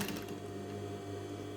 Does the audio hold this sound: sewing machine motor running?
yes